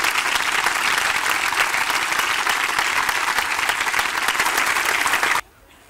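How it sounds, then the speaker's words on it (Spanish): Sustained audience applause at an outdoor August concert by a town band in Quintanar del Rey honouring pandemic victims, dense and even clapping from a crowd that cuts off abruptly near the end. "Un fuerte aplauso para todos ellos y gracias por vuestra asistencia."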